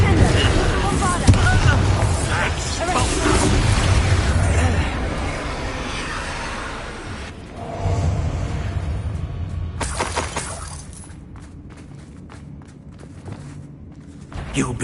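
Bombarda spell blast in Hogwarts Legacy, a loud shattering crash followed by booming debris and rumbling, then a second impact and crackling scatter, with game voices in the scene.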